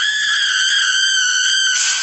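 A sustained, high-pitched shriek from a Denny's TV commercial with screaming chickens holds steady for two seconds, bright and harmonic, like a chicken screaming at full volume, with a brief surge near the end.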